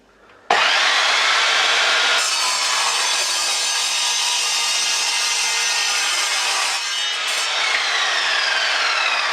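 An abrasive cutter grinds through 3mm steel 2x1 box section, a loud continuous harsh whine that starts abruptly, holds steady for several seconds with slight shifts in pitch, throwing sparks nearby.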